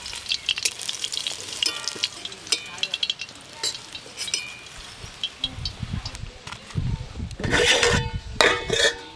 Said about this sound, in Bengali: এই বড়াগুলো ভাজা হয়ে গেল তুলে নেব